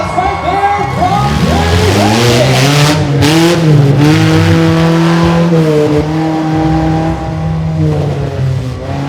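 A mini monster truck at a Renegade Monster Trucks show in Frederick, Maryland, spins donuts, its loud engine revving in rising and falling sweeps with tire squeal, while an announcer talks over it.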